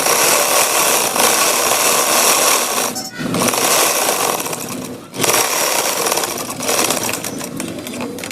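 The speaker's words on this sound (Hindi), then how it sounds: "चलो मशीन पे चलते हैं, सिलाई लगाते हैं।" Sewing machine stitching the centre seam of a peplum frock, a loud, close, rapid whirring hum that runs steadily, briefly pauses twice, then continues.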